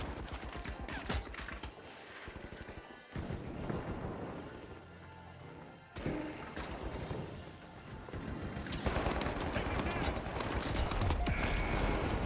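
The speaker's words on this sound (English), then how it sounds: "It's a heavy with an LMG, isn't it?" A heavy enemy in a video game fires a light machine gun, bursts of rapid gunfire separated by short pauses and mechanical clatter, growing denser and louder toward the end.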